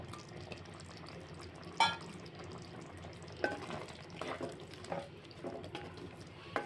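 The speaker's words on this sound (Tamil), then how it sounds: "இப்போ நம்ம க்ளீன் பண்ணி எடுத்து வச்சுருக்க கத்திரிக்காய் இதில் ஆட் பண்ணிக்கலாம்" Eggplant pieces are tipped into a simmering tamarind-based drumstick curry with coconut milk and stirred, giving a soft bubbling bed with a sharp clatter near the start and several scraping stirs afterward, fairly quiet and close.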